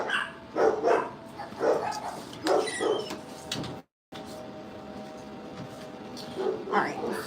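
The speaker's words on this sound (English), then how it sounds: "Excuse the dogs." Several dogs bark in a house in repeated bursts, fairly close, with someone talking over and between the barks and a brief silent gap midway.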